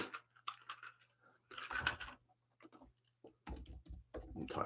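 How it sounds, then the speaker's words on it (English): Computer keyboard typing: bursts of quiet, close clicking keystrokes separated by short pauses over a low steady hum. "I'm typing."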